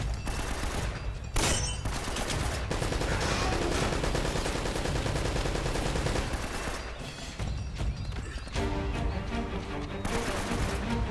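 Rapid bursts of gunfire from a weapon in Uncharted: Drake's Fortune, sustained loud automatic shots with a few sharp breaks and clattering impacts, close and continuous with no talking.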